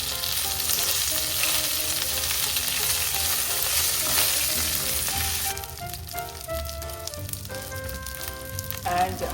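Cumin seeds, curry leaves and mint leaves fry in oil in a pan, a loud crackling sizzle that softens partway through as the fresh leaves go in, then continues more gently with light clinks.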